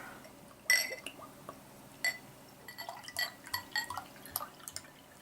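Homebrewed porter splashes and trickles into a glass, with a few clinks and gurgling drips as the pour continues, quiet and close.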